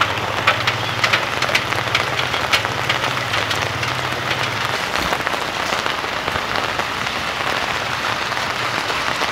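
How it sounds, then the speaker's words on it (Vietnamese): Heavy rain pours steadily with a dense hiss and patter of drops, joined by a low engine idle that fades midway. "giờ mà còn mưa lớn mà"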